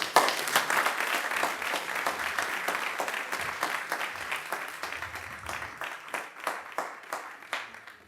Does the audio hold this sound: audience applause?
yes